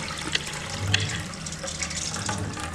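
Water from soaking rice is poured into a pot in a steady, close splashing stream that runs throughout with small bursts, with no talking.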